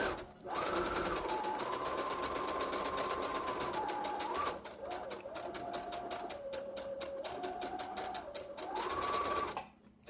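A sewing machine runs a sample stitch in close-up, a steady whirring mechanical drone that holds for about four seconds, dips briefly as the speed changes, then continues for several more seconds before stopping.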